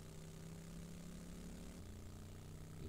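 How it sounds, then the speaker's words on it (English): A helicopter in the video game 7 Days to Die drones steadily with a constant rotor and engine hum, loud and continuous, with no talking over it. "Could use the chopper."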